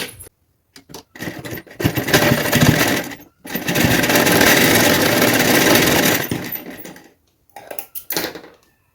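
A sewing machine stitches a plain blouse in two loud sustained runs of rapid whirring, one short and one longer, separated and followed by brief pauses with small clicks and short starts.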